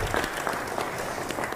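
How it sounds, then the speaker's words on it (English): Brief, moderately quiet clapping from an audience at an innovation week event in Nairobi, a steady patter of hands lasting under two seconds with no voices on top. "Clap for him."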